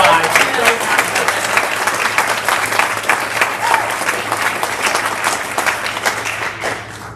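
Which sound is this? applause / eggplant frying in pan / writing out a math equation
applause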